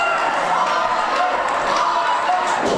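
Crowd noise at a Battlezone wrestling show, a steady dense roar of cheering and shouting from many people that keeps up through the whole stretch at a loud, even level.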